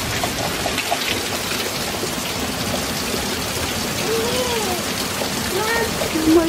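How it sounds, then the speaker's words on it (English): Steady rain pours down outdoors on a rainy day, a dense even hiss of drops on surfaces throughout, with faint voices rising briefly near the end. "No, it's raining."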